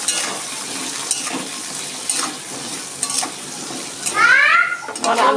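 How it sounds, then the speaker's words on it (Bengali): Small cut potato pieces frying in hot oil in a pan, a steady sizzle broken by the scrape of a spatula stirring and a few clinks of utensils against the pan. "আলু দুটো আমি একটু ভেজে নিচ্ছি।"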